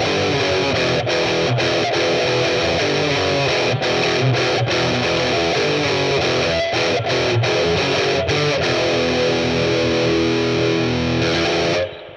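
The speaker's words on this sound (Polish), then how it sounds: "mocno przesterowany dźwięk." Heavily distorted electric guitar played through a Boss Katana Gen 3 amp in brown mode, loud and continuous with chugging rhythmic chords and brief stops, ending abruptly.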